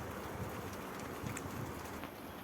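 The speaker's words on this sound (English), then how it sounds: "The rain has started to come heavily now." Steady, dense rain hissing without a break, heavy and even, with no voices.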